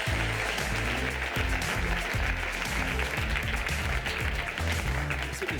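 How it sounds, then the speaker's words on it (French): Sustained, loud applause from the audience at the Expertes à la Une 2026 launch evening, with dense clapping under a continuous band of music with strong low tones throughout. "je vous demande d'applaudir Thierry Tuillier"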